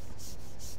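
A hand rubs over a freshly shaved head, giving a close, loud, raspy scrape with two brief strokes in under a second and no talk.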